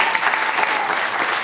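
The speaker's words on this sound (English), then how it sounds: "Give her a round of applause, folks, please." Audience applause at a podcast show taping, a brief, dense burst of clapping from a crowd.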